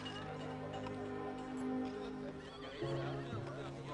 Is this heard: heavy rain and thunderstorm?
no